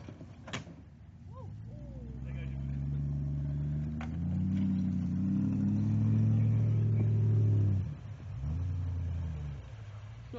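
A 4x4 off-roading at Whaddon gives a sustained low engine rumble that swells and strains through the middle, with brief clunks and knocks of the vehicle over rough ground.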